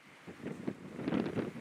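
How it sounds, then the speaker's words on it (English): Gusty wind buffets the microphone on a disc golf course during a pro tournament round, a low rumbling roar that swells and eases in uneven bursts with no talk. "The wind, at least on this part of the course, is very prevalent."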